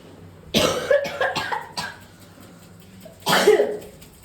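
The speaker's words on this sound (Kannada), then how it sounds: "ನನಗೆ ಕೆಮ್ಮು ಬರ್ತಿದೆ" A short burst of harsh coughs up close, then a pause and one more loud cough.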